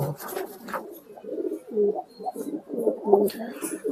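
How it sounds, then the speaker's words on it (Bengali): A male pigeon coos in repeated soft, throaty bursts at close range, mixed with rustling and handling noises and a little nearby talk. "হ্যাঁ, এটা নর কবুতর"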